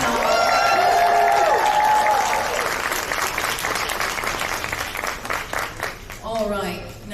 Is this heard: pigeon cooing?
no